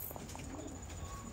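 Racing pigeons coo softly and repeatedly close by, a low throaty burbling with no talk over it.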